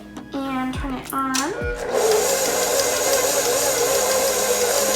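An electric stand mixer whirs steadily at high speed through cookie cake frosting, a loud continuous motor drone that starts after a couple of brief rising spin-up sounds.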